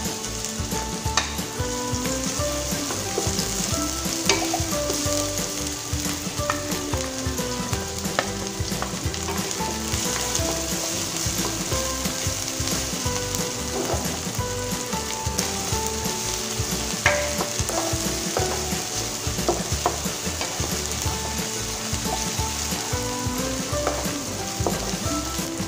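Onion fries in a pan with a loud, steady, dense sizzle and crackle that runs unbroken throughout, with occasional clinks of stirring.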